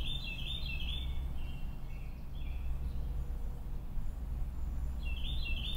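An outdoor bird gives clusters of high chirps at the start, trails off in the middle and calls again near the end, all over a constant low hum with no talking.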